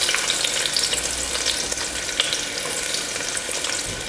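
Onion and green chilli frying in oil in a cooker with cloves, cinnamon, cardamom and bay leaf, a steady close crackling sizzle that runs throughout with faint stirring.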